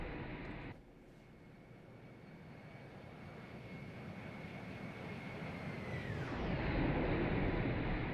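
An airliner flyby in a flight simulator game with a Toliss A321, a steady engine roar that swells gradually, then a falling whine as the aircraft passes.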